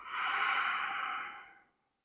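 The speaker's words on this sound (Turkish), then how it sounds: "Ve burnundan derin bir nefes al ve tekrar boşalt." A single deep, slow exhale during a morning yoga routine, a soft airy rush that swells and then fades to silence, close and alone.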